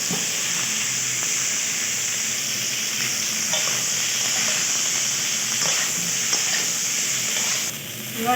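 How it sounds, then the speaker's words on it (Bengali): Raw plantain and potato stir-fried in a pan, with a steady loud sizzle and hiss running throughout and occasional scraping stir strokes, fading slightly near the end. "কলাগুলো একটু নেড়ে চেড়ে এর মধ্যে আমি আলু দিয়ে দেবো"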